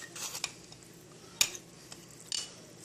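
Stirring a quiche filling in a bowl with cutlery, soft scraping clinks spread across the moment, with a sharper tap near the middle and another toward the end, close and fairly quiet.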